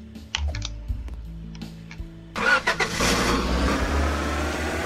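In the Roblox game Lumber Tycoon 2, a car spawns with a few clicky taps and an engine start, then settles into a steady droning drive with the engine running loud and continuous.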